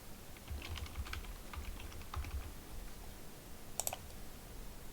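Computer keyboard typing in short bursts of key clicks, fairly close and moderately quiet, as a Wi-Fi password is entered, with a couple of sharper clicks near the end.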